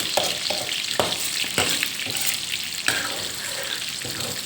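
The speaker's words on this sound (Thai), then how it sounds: "ไม่ต้องให้น้ำมันมันร้อนจัดนะเวลาใส่ ทอดมันมันจะได้เหนียวเนาะ" King mackerel fish cakes frying in a pan of oil, a steady close sizzle with occasional stirring clicks and scrapes throughout.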